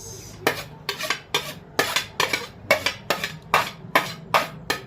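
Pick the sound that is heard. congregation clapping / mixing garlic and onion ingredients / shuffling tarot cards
mixing garlic and onion ingredients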